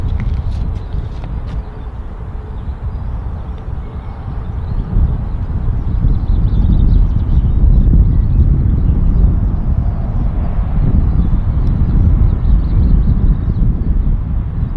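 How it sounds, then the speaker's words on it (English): An Aer Lingus Airbus A321neo airliner at Manchester Airport gives off a steady, broad jet roar that swells toward the middle and holds, heard from a distance through heavy wind noise on a blustery day. "So there it is, the Aer Lingus A321 Neo."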